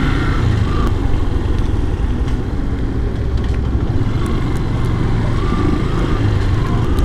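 A Yamaha FZS V2 motorcycle rides through Kathmandu traffic, its engine a steady low rumble blended with road and wind noise, loud and continuous without speech.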